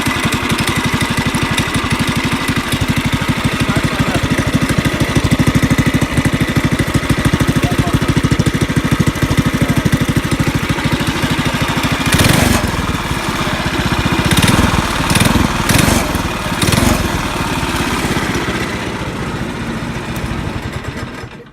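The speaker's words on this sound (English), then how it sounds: "The go-kart is a lot faster now and so much more fun to drive." A go-kart's small single-cylinder engine with a new performance header, head gasket, air filter and stiffer valve springs runs loud and close for about twenty seconds, a steady rough putter broken by several short revs near the middle.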